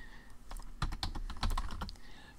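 Quick, uneven keyboard clicks, a burst of close key taps with short pauses between them, fairly quiet with no voices.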